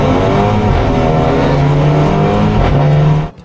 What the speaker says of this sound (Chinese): 这是我的第一次静态发车，也是我最后一次开上印着自己名字的49号赛车